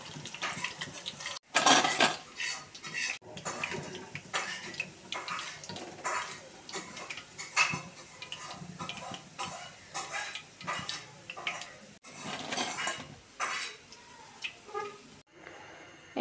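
Fried onions are lifted from a pan with metal utensils, giving repeated light scrapes and clinks of cutlery against cookware over a background sizzle, close and irregular with no talk.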